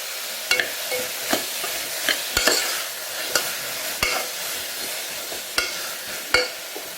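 A spoon scrapes and stirs potato and salt through a pan, with sharp clacks against the metal at a steady, uneven rhythm over a faint background hiss and no voices.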